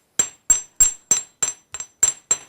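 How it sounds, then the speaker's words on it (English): A hammer strikes wire held against a hard surface, flattening it while shaping a simple jewelry clasp. Eight sharp, ringing metallic taps land in a steady, evenly spaced rhythm, close up and fairly loud, with no talking. "I'm stroking the wire with the hammer as you hammer it, and that helps keep the wire flat and without any dents."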